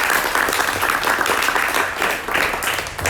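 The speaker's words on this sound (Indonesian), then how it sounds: "kita kasih tepuk tangan buat Bu Mirza" An audience applauds Bu Mirza after a nutrition briefing for a cycling training session, the clapping steady, dense and fairly loud throughout, with no voices over it.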